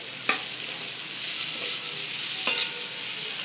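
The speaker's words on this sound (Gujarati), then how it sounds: "પાંચ મિનિટ થઈ ગઈ છે હવે આપણે તેને હલાવી લઈએ" Kantola (spiny gourd) curry fries in a pan as it is stirred, a steady close sizzle broken by two sharp scraping strokes of the spoon, with no talking.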